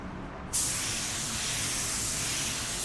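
Spray gun laying clear coat onto a car panel, a steady close broadband hiss that bursts on abruptly after a half-second of quieter air and holds constant to the end.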